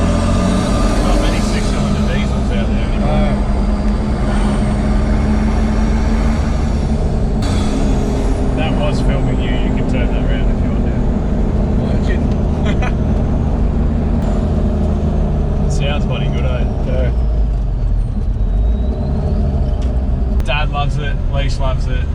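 A Nissan Patrol with a 4.2 litre six-cylinder diesel rumbles on the road, a loud, continuous low drone with rattles and clunks from inside the vehicle throughout.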